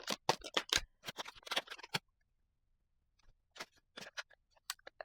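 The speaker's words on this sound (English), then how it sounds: "I'm gonna just shuffle one more time" Tarot cards shuffled by hand in a dense run of quick riffling snaps and slaps for two seconds, then a pause and a few scattered softer card taps, close and fairly quiet.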